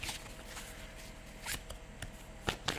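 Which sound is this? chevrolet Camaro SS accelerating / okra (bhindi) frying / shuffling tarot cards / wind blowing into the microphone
shuffling tarot cards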